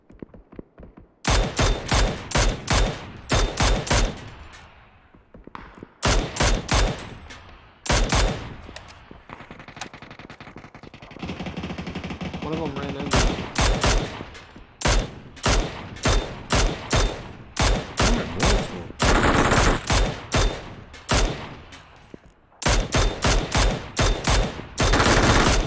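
Gunfire in the video game PUBG, sharp rapid bursts of automatic shots in repeated volleys with short pauses between them, loud and close, with quieter gaps of distant ambience.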